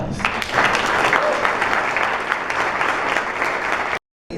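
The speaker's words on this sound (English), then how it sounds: "let us give all of our winners today another round of applause" An audience at a regional planning council awards event gives the winners another round of applause, loud, continuous clapping that fills the room evenly before cutting off abruptly near the end.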